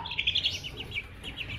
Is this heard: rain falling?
no